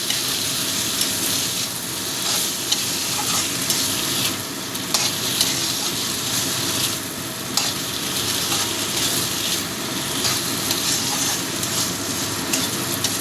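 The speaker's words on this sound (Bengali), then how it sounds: "এবার দিয়ে দিচ্ছি মাছটা, কাটা বেছে রাখা মাছটা দিয়ে দিলাম। এবার ভালো করে মিশিয়ে নেব।" Deboned lote fish is stirred and fried in a pan, making a loud, continuous close sizzle with periodic scraping strokes of a spatula throughout, no voices.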